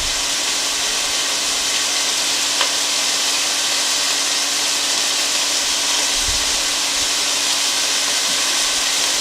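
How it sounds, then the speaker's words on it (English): Beef browning in hot oil in a pan for Amish beef and noodles gives a steady, even sizzle that holds without letup, close by and unaccompanied by voices. "Now you want to make sure your oil is hot enough to brown this, but you don't want to burn it."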